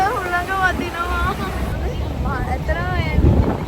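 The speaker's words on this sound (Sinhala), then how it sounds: "හුළඟ වදිනවා." Wind gusts buffet the microphone aboard a dinner cruise boat passing under bridges, a loud rumbling roar throughout, with voices and crowd chatter audible in the background.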